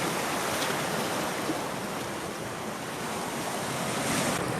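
Strong sea waves breaking on a beach, a continuous loud wash of surf with wind noise buffeting the microphone, steady throughout with no voices.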